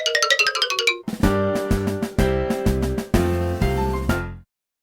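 A shop door bell rings: a quick run of bright chimes, then a longer musical chiming phrase of repeated tones that fades out at the end.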